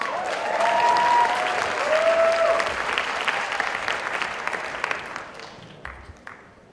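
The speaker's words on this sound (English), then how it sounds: "applause." Audience applause at an Ignite Denver talk, a full crowd clapping loudly at first, then gradually thinning and fading toward the end.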